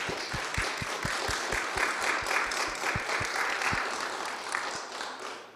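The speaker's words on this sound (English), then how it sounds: "Let's give John a round of applause." An audience applauds at a church forum, a steady wash of clapping with distinct individual claps standing out near the front, lasting the whole stretch without talk.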